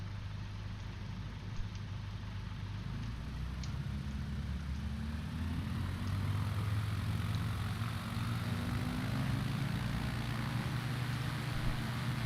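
A propeller aircraft engine in Microsoft Flight Simulator 2020 drones steadily during takeoff with a windy rush over it, its low tone climbing gradually in pitch as the plane speeds up, continuous and fairly loud.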